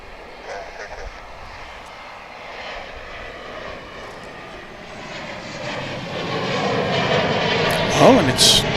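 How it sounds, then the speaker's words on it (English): Embraer 175 airliner engines during a go-around at DFW International Airport, a distant roar that swells louder toward the end, with people talking over it. "Oh, and it's doing a go-round. You can hear that."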